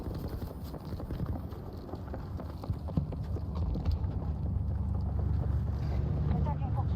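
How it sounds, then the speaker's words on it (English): Footsteps in the shooter video game Battlefield 2042 thud and clatter in a rapid, uneven patter against low rumbling background noise, growing slightly louder toward the end. "The footsteps are ridiculous."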